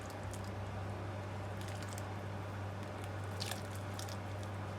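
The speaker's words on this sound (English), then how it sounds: "we're going to pour the egg in there." Chopped egg slides from a container into a pot of chicken corn noodle soup with soft wet squishing and a few faint plops, quiet and close, against a low steady hum.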